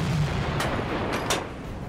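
A submarine deck gun, the USS Perch's in the Silent Hunter 4 video game, fires high-explosive rounds at a ship's stern. Two or three sharp booms burst over a steady, loud rumble.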